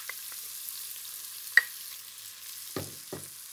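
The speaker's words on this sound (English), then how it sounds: "So get our onion into the pan on about a medium heat," Onion frying in a pan on medium heat for a vegetable dhal: a soft, steady hiss with a few light clicks and scrapes of stirring, close and fairly quiet, no voices.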